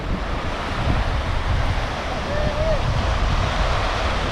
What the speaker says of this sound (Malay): Oh, alun padu.